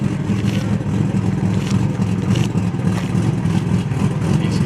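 A turbocharged drag racing car's engine drones steadily at a drag strip, a loud continuous roar with a shifting rumbling tone and no talk.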